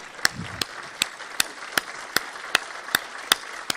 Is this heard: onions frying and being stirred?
no